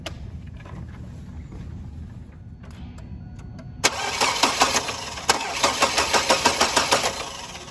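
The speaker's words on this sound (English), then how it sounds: "I'm going to crank it" A car that cranks but will not start: a faint low hum, then a starter motor whirring in a rapid, even series of pulses at close range without the engine catching.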